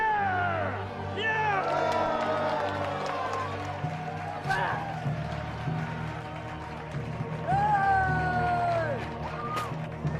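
Roman arena crowd at gladiator games cheering and roaring, a dense continuous wash of many voices with rising whoops and shouts, loud throughout.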